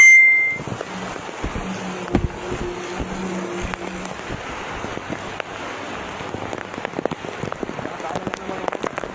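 Heavy rain patters and hisses steadily during a bike ride, with scattered sharper drops and some wind. A faint tonal hum runs underneath for the first few seconds.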